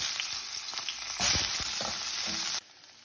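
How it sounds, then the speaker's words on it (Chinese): Chicken wings sizzle and spit in a little hot oil in a pan, with a brief louder burst of crackling midway before the frying settles back to a softer hiss. "我们给它煎至两面金黄"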